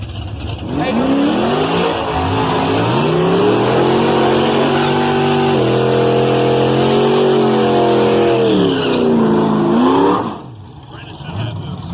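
A tuned DSM drag car races an LS-swapped Mustang at a dragstrip, engines roaring loud and close with a rising, shifting wail for about ten seconds before cutting off, crowd voices faintly underneath.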